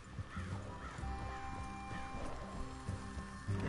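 Horse hooves clip-clop in a steady, repeating rhythm in the video game Red Dead Redemption 2, moderately close, over a faint ambient bed with no voices.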